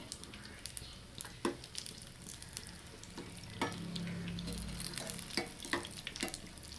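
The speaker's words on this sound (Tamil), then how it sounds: "இப்போ நம்ம கொஞ்சம் கொஞ்சமாக எடுத்து நம்ம ஆயிலில் விட்டுக்கலாங்க விட்டுட்டு டூ சைடுமே திருப்பி போட்டுக்கலாம்" Sugar ponda batter made with banana is dropped bit by bit into hot oil for frying. It makes a quiet, crackling sizzle with scattered soft pops and light taps close by.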